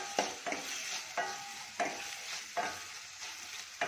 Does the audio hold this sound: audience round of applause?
no